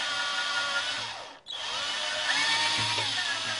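A power drill with a step drill bit whines loudly and steadily nearby, cuts out briefly, then spins back up and grinds on.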